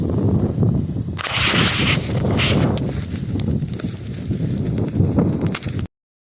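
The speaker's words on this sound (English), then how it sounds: "Super windy." Strong gusts of wind on a hiking trail near Carbondale, Illinois roar and buffet the microphone, rising and falling in loud surges before cutting off abruptly.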